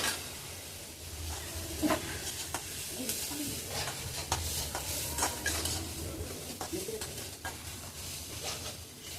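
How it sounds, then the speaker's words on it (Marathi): Hot oil tempering for poha sizzles steadily close by while a utensil scrapes and stirs in uneven strokes, with faint bird calls in the background. "आता ती फोडणी जोरात असते बाबा"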